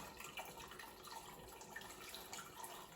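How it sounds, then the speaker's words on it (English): Water pours steadily into a pot to steam a plum pudding, a soft continuous splashing hiss that stays faint and even throughout, with no talking. "So we want to pour enough water in there so it's about halfway to 3/4."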